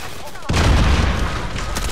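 Heavy boom of gunfire in a Call of Duty Warzone firefight, starting suddenly and loud, then trailing into a rumbling tail with more shots near the end, while players talk over it.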